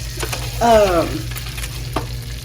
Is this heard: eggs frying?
yes